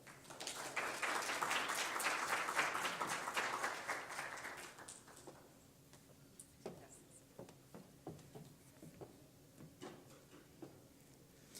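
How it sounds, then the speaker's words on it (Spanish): A conference audience at an international public-private cooperation forum in Mexico gives a speaker welcoming applause, loud and full for about four seconds, then fading to a few scattered claps and taps. "démosle un fuerte aplauso de bienvenida"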